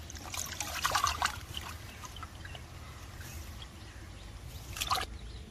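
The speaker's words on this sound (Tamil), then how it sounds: "நல்லா மஞ்சள் உப்புலாம் போட்டு நல்லா கழுவிடணும்." Chicken being washed with turmeric and salt under running water, a steady trickle and splash with a few louder bursts of handling near the start and end, close by, with no voices.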